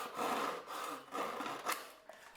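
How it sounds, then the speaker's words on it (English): Hand saws rasping through a dried gourd shell, a steady back-and-forth scraping with strong strokes, close and alone. "I use these two saws to open up the gourd"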